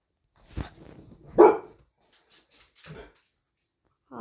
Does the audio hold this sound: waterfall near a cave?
no